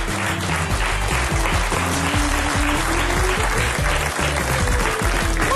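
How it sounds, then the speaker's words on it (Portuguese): A studio audience on a Portuguese talk show applauds the four commentators with dense, sustained clapping and a low murmur of crowd noise underneath throughout. "Um aplauso para os quatro"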